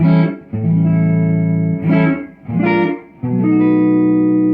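Harmony Strat-style electric guitar played alone on the fifth pickup position, a bright, clean tone, sustained chords and notes ringing out with slight shimmer, loud and close.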